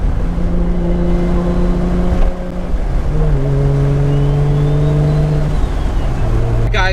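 A single-turbo Toyota Supra MKIV engine pulls hard under about 22 psi of boost on a cold day, its loud steady drone rising through the gears with a brief dip at a shift, a voice faintly beneath the roar.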